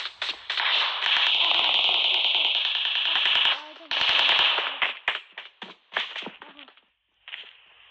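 Gunfire in the mobile shooter game PUBG Mobile: a loud, sustained automatic burst, then choppier volleys of shots and short pops, with a brief voice in between.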